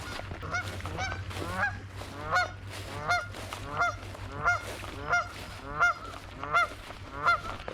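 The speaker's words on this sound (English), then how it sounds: "I'm gonna go past these stupid geese." A flock of geese honking repeatedly at a steady rhythm, loud and close, over a low continuous hum.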